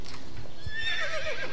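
A horse in the Star Stable Online video game gives a loud, clear whinny near the end, after a few soft hoof clops, with no talk over it.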